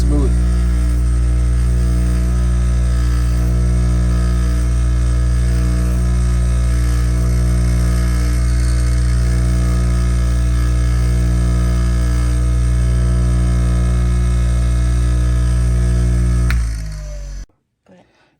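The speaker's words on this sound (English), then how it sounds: "I'm going to take it over here to the sander, and I'm just going to sand the edges so they're even and then smooth." A power sander smooths and evens the cut edges of a slim law enforcement badge clip, running as a steady loud motorized hum and whir for most of the clip before spinning down and cutting off near the end.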